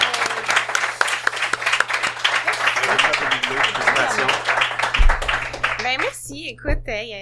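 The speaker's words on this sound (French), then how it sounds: "On l'applaudit, Sarah, qui avait remporté ça" A small audience applauds at a trophy presentation on a talk show, with brisk, close clapping that mixes with talk and fades out as a voice takes over at the end.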